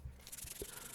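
Sanding on a cross-peen hammer being reshaped: a short stretch of scratchy, rubbing strokes, close up and fairly quiet, with no voices.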